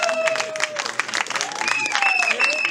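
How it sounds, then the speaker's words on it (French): Guests at a civil wedding ceremony in the commune of Matadi clap together in a steady burst of applause, with voices and tonal sounds mixed over the clapping. "Applaudissez quand même."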